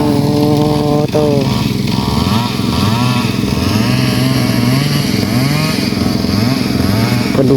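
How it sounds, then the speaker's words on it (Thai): A small engine drones steadily and loudly throughout at a rice field, revving up and down like a chainsaw or water pump motor, with a voice talking over it. "เสียงจักดูดน้ำก็มีจักตัดไม้ก็มี"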